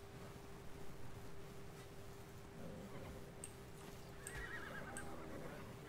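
A horse in ARK: Survival Evolved whinnies faintly over a constant hum, with soft clip-clop hoofbeats and a few sharp ticks in the background.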